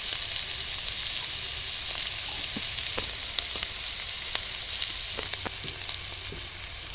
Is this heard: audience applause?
no